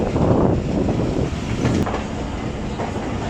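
The Thal Express passenger train approaches platform 1 of a junction railway station, its wheels rumbling and clattering loudly and close by, with wind buffeting throughout.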